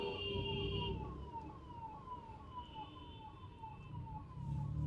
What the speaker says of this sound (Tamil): ஆம்புலன்ஸே டிராஃபிக்கில் மாட்டி தான் இருக்குது.